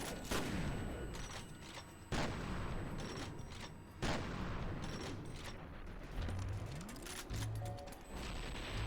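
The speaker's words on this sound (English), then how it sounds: "stop shooting me with grenades" Grenades fired at the player in F.E.A.R.: Perseus Mandate, with several sharp loud blasts at roughly two-second intervals, each followed by rumbling decay and mechanical game sounds in between.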